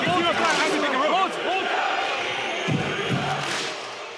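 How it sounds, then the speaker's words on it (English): Arena crowd at a FIBA 3x3 Basketball World Cup 2023 quarter-final, roaring, cheering and shouting in a loud continuous frenzy, with clapping mixed into the din and voices rising throughout. "People are clapping their hands. Just a frenzy."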